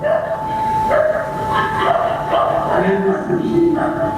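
A dog barks repeatedly and excitedly at a pet-care robot, heard from a video played during a live lecture, with someone talking over the barks throughout.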